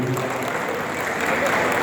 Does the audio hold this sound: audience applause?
yes